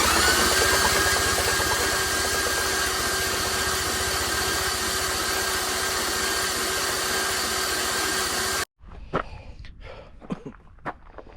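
A Chevrolet Camaro SS engine being cranked over on the starter after an oil fill and lifter and camshaft work: a steady, loud mechanical whir for about eight seconds, then it cuts off, leaving faint clicks and knocks.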